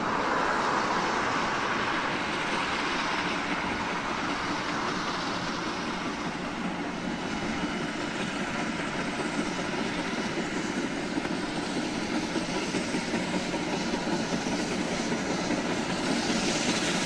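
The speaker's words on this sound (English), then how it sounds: "The Shay trundles through the rolling farmland of the Sierra foothills" Shay geared steam locomotive trundling through rolling farmland in the Sierra foothills, a steady loud rumble and clatter of the train that holds unbroken from start to finish, no voices.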